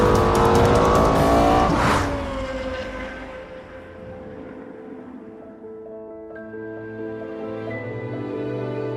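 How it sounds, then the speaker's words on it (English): A high-revving Lexus V10 sports car engine screams loudly, then drops off as the car passes, leaving a fading tonal whine in the distance. "the highest revving V10 engine in a production car"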